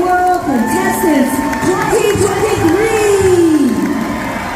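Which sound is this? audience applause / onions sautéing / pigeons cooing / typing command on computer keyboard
audience applause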